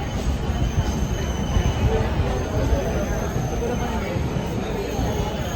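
A train rumbles and clatters steadily at busy Kankavli railway station, with people talking and crowd noise mixed in.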